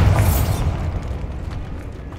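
A Bombarda blasting spell in Hogwarts Legacy goes off as a loud, close burst with a crackling onset, then settles into a deep rumbling tail that fades over about two seconds.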